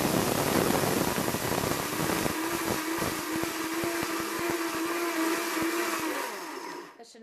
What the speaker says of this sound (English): all that you have to do is turn it on, and this is also going to be really loud